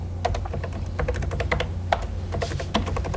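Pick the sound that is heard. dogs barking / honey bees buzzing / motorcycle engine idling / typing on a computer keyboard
typing on a computer keyboard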